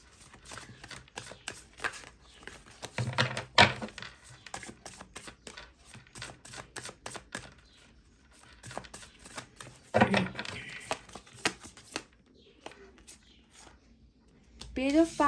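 A second deck of tarot cards is shuffled and drawn during a Hindi tarot reading: rapid crisp riffles and repeated sharp card snaps and taps, close up, alternating with someone talking.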